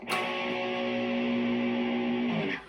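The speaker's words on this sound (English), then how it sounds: "power chords were very unique because they gave like a hard killer sound" One distorted electric guitar power chord rings out thick and buzzy, sustained for about two seconds before cutting off, with no voices.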